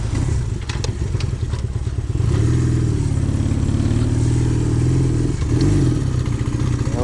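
A motorcycle ride captured through a GoPro-mounted microphone, with a close engine drone that clatters at first, then rises and falls in pitch as the bike revs and shifts, accompanied by steady wind noise.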